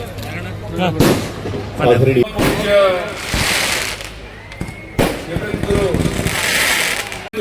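Firecrackers burst in loud, sharp cracks with crackling bursts between them at an outdoor birthday celebration for a former chief minister in Shikaripura. A voice speaks over the bangs through a public address system.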